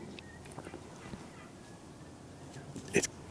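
Faint wild turkey gobbles in the distance over quiet outdoor ambience in Kansas, with one louder call near the end.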